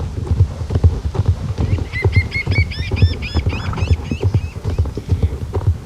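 Horses gallop through woodland in the Star Stable video game, with a rapid, continuous clip-clop of hooves running steadily throughout, joined midway by a brief high whinny-like call.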